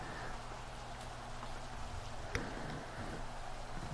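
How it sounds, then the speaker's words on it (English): Rain pours during a football game in Maximum Football 2019 as a constant, dense hiss. A low hum sits underneath, and a single sharp tick stands out midway. No one speaks. "We got a rainy game."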